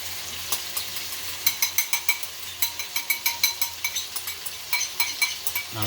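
Meatballs frying in a pan as sweet chili sauce is spooned over them, giving a steady close sizzle with a regular series of light spoon scrapes and clinks against the pan.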